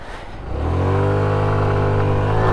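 An FKM Labi 150 motorcycle accelerates hard from near idle, its engine note climbing quickly and holding a loud, steady high-revving drone close to the microphone.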